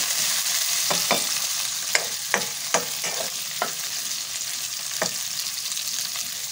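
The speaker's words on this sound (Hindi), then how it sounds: "तो ये देखिए फ्राई हो रहा है" Nuts frying in a pan for sheer khurma: a continuous bright sizzle with several sharp scrapes and taps from a spatula stirring at uneven intervals, fairly close; no voices.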